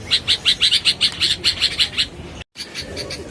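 A pair of white golden pigeon chicks gives a quick run of about a dozen bright, high chirps in steady rhythm. A short silent break follows, then softer background sound.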